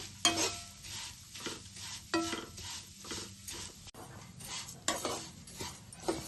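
Flattened rice (atukulu) stirred and fried in a pan over medium flame, with repeated scraping strokes of a utensil against the metal, a steady crisp sizzle underneath and occasional clinks.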